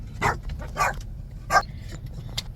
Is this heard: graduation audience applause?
no